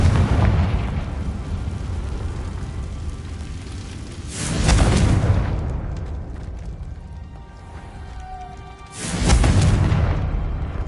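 Confringo fire spells land in Hogwarts Legacy combat: two loud, rumbling explosive booms, a few seconds apart, each swelling and fading through a low roar of game background sound, with no speech.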